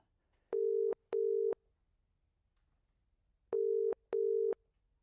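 A radio call-in show's telephone line sounds two pairs of short, steady electronic ring tones with a pause between them as a caller connects, clean and alone.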